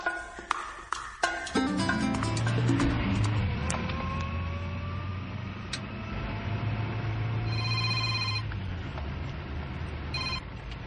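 A telephone rings with a loud, repeating electronic tone in a close indoor setting, its pulses continuing steadily across the stretch with no one speaking.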